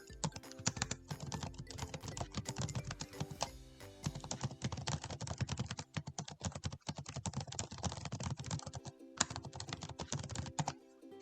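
A prompt being typed on a computer keyboard, a fast continuous patter of close keystrokes with only brief pauses, no voices.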